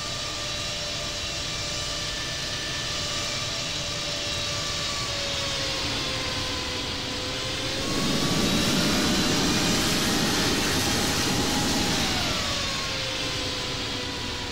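An airliner taxis toward the runway in the Infinite Flight simulator at Hong Kong International, its jet engines producing a steady whining roar with a brief swell of thrust partway through.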